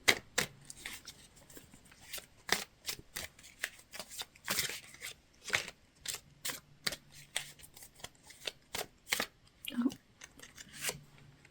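Tarot cards are shuffled by hand in quick, uneven bursts of sharp riffling snaps and slaps, close and crisp, with brief pauses between flurries.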